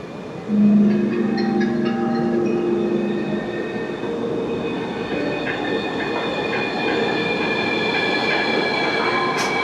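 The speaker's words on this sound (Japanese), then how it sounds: "これからですね、折り返しの電車に乗って、ちょっと全面展望を楽しみたいと思います。" A Taipei MRT metro train runs steadily, with a constant rumbling roar, high wheel squeals and clicking rails, loud and close throughout.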